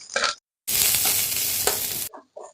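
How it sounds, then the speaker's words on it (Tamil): Onions sizzling loudly in a hot pan for a Tamil fry of drumstick leaves and raw banana, a steady bright hiss with a stir partway through, bracketed by brief softer clinks. "நல்லா வெங்காயம் நல்லா பொன்னிறமா வதங்கணும்."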